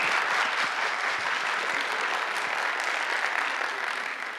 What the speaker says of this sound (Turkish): Kuvvetli alkışlarınızla grup sözcüsü Ayşe Mine Atçeken.